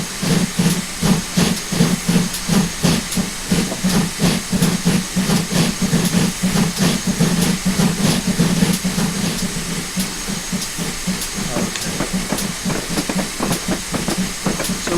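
A train moving along the track in the video game Train Simulator 2015, with a steady rhythmic clacking pulse over a constant hiss that stays even and unbroken throughout.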